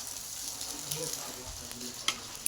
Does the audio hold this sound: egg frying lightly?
yes